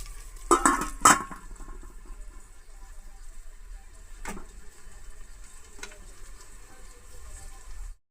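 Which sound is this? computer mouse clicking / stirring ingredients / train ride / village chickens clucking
stirring ingredients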